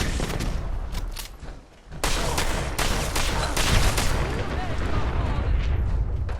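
Heavy combat shotgun blasts ring out in the video game Fallout 4, a dense run of loud booming shots over a constant roar of battle, with a short lull near the two-second mark and speech mixed in.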